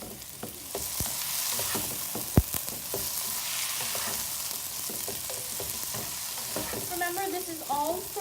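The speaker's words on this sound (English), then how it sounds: "And now we're going to add in the scallions." Scallions stir-fry in hot oil as the base for chili chicken gravy, a steady close sizzle with soft scraping strokes of a spatula and one sharp knock against the pan.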